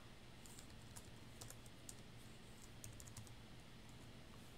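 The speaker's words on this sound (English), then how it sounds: "today I can't seem to type in any tickers" Stock tickers typed on a computer keyboard, with sparse individual key taps in small clusters, faint over a constant background hiss and hum, without any talking.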